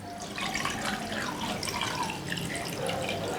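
Fresh water pours steadily into a pot holding fish and salam leaves for a Balinese fish stock, a continuous splashing trickle at moderate level with no talk.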